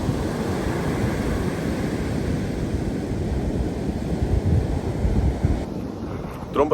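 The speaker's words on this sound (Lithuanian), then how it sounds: "Skalauja krantą." Sea waves wash against the shore in a constant, loud roar mixed with heavy wind buffeting, steady throughout without clear individual breaks.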